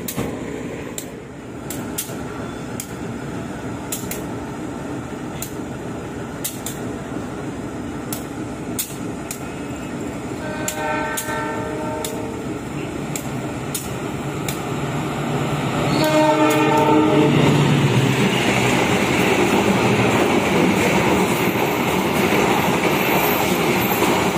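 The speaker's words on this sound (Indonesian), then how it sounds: "Kereta api Sancaka berjalan langsung, lumayan ngebut" The Sancaka passenger train passes at speed on a double-track line, with rumbling wheels, rhythmic clatter and sustained horn blasts that grow louder as it comes alongside.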